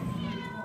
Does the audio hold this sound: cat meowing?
yes